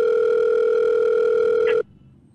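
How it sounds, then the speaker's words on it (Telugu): A steady, loud telephone tone from an outgoing call holds unbroken for almost two seconds, then cuts off abruptly into a quiet line hiss. "వేరే కాల్ చేస్తాను."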